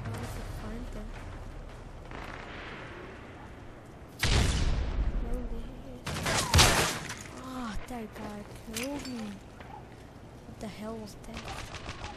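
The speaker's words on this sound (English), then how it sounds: "I just started shooting" Gunfire in the Modern Warfare 3 video game during a free-for-all online match, with a few loud shot bursts that cut through ongoing talk.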